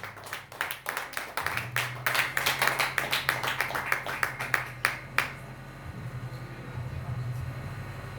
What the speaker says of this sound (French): Applaudissez plus fort.